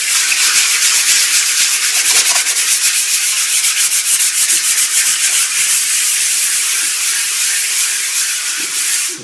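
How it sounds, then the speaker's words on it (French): A sanding machine grinds steadily across decorative Senideco Senibeton plaster on a countertop, a loud continuous abrasive hiss with slight pulsing, alone without talk. "on va poncer."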